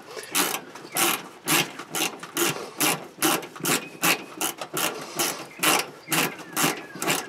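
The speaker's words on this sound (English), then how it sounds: "since they're a little rusted, I wanted to use this little ratchet deal here" A small ratchet backs out rusted Phillips screws on a Pit Boss grill, giving a close, rhythmic series of rasping clicks in rapid regular strokes, about two per second, with no talking.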